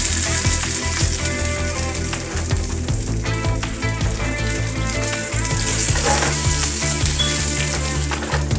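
Dried red chilies and urad dal sizzling in hot oil in a pan for South Indian temple-style tamarind rice, a dense, continuous frying crackle with soft scraping as they are stirred, close and steady without talk.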